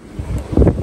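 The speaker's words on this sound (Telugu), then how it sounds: "గాలి తెగ వేస్తుంది అసలు." Strong gusting wind buffets the microphone outdoors by a home garden during a rainstorm, a brief low roaring rush that swells louder near the end.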